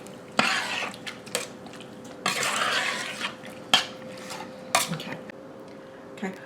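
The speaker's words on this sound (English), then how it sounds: "I'm going to stir this up and I'm going to let it cook until it starts to get thick" Cherry cobbler filling stirred in a pot on the stove, a utensil scraping and knocking against the metal in uneven strokes with several sharper clanks, close up over a steady low hum.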